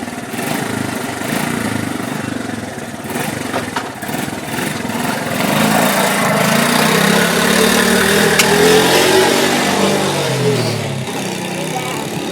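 A Honda FourTrax 70 ATV engine revs steadily and loudly up close, pitch rising and falling as it shifts through the gears, with a voice talking over it.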